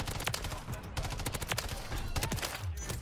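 Rapid gunfire in the Call of Duty MW3 video game, dense overlapping bursts of shots with sharp repeated cracks, steady and continuous through the whole stretch.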